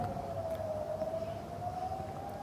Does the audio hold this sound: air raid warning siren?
yes